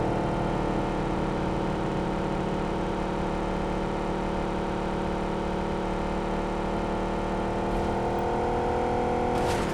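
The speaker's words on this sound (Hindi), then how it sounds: "भाई 2 कूप जब एक साथ चलती है ना, तो वो इंजन की आवाज़" Two coupe car engines in a video game run together in a steady, dense, loud drone with layered harmonic hum, holding constant with little change and no talk.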